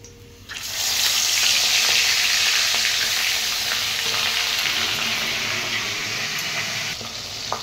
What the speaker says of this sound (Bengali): কড়াইতে তেল গরম হয়ে গেছে, এবার একে একে মাছগুলো দিয়ে দেব।